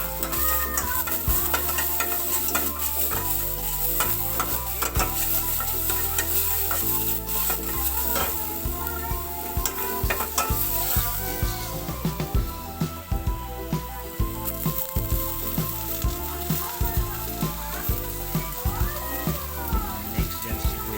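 Garlic sautéing in a pan for ginisang sayote, a continuous close sizzle of frying with frequent scraping and stirring clicks of a utensil against the pan throughout.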